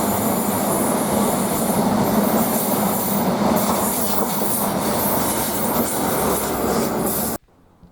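Former NER power cars 43257 and 43299 in Colas branding haul a measurement train past Devonport, a loud continuous rumble of wheels and engines rolling steadily by up close, with no voices, cutting off abruptly at the end.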